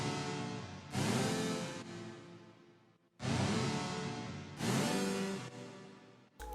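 A chord progression built from a pitch-tuned sample of the Pokémon confusion sound effect, with light reverb, for a trap beat; four bright, full chords swell and fade in turn, loud, with no voices.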